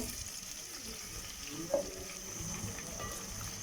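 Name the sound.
onions frying until golden in a pan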